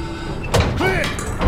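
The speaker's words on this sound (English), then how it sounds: "Get that hatch open." A heavy metal hatch swings open with a clunk and grinding scrape in the Call of Duty: Vanguard video game, a short burst of mechanical sound heard up close over low background noise.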